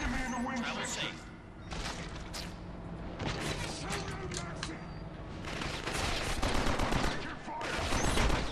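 Dense bursts of automatic gunfire and shots from the Killzone Mercenary first-person shooter on PS TV, rattling almost continuously with explosions and game sound effects mixed in, loud throughout.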